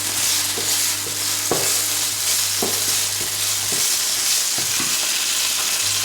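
Carbonara ingredients sizzle and fry in a pan with cream nearby, a loud, steady crackle broken by several scraping stirs and clinks of a utensil, with no talking.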